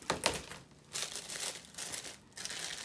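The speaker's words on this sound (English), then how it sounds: "I'm just gonna cut some of this extra plastic off the top" Scissors trimming excess clear plastic wrap off the top of a Valentine's candy pot, giving crisp crinkling and rustling in several short bursts, quiet and close.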